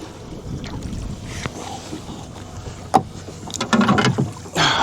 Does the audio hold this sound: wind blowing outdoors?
yes